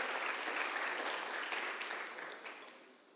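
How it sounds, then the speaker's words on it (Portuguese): A church congregation applauds the name of Jesus during a Brazilian sermon, a short burst of dense clapping that gradually tapers off over three seconds. "Tu pode aplaudir o nome do Senhor Jesus"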